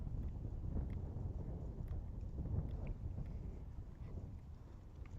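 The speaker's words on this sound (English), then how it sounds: "It is windy as all get out. You can hear the wind." Strong wind buffeting an outdoor action camera, a steady low roar of gusts rumbling across the microphone with no voices, fairly faint overall.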